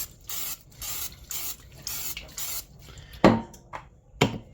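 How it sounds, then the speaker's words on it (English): Canola oil cooking spray hisses onto a vintage BSR cast iron pan in several short bursts, followed by a couple of sharp metallic clanks from handling the pan, with no talking. "We're going to first spray it with a little canola spray because we don't want it to"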